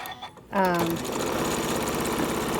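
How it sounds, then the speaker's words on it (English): A sewing machine runs a top stitch along a quilt edge, starting after a brief pause and then running steadily as a fast, even mechanical whir. "ride this guide along the edge of my quilt, and that's gonna provide a nice top stitch"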